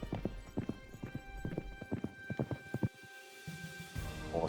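A horse in the Citadelum video game clip-clops along in a quick, even rhythm of close hoofbeats, pausing briefly before more hooves and a faint whinny-like sound.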